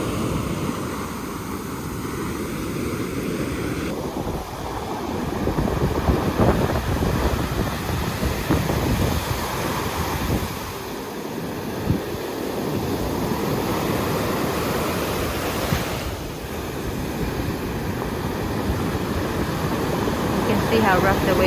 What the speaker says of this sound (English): See how rough the waves have gotten.